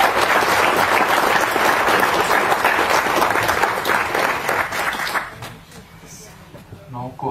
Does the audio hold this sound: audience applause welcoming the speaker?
yes